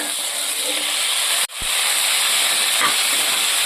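Onions and tomatoes sizzling in a pan while frying, a steady close hiss with a brief dip partway through, no voices.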